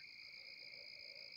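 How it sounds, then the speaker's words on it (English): A steady chorus of frogs trills in high, continuous tones, faint and distant over a quiet evening background at a Nebraska campsite by water. "I don't know if it's picking up that sound of all those frogs over there"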